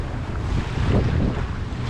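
Wind roars steadily over a Pearson 26 sailboat on a broad reach, a close, full rushing noise with faint water wash beneath and no talk.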